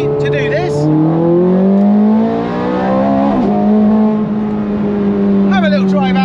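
A Ferrari 430 Scuderia rebuilt after a wreck drives off close by, its engine note rising through revs in smooth sweeps before a brief gear change and another climb.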